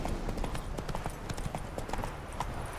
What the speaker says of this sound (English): Run, horse, run!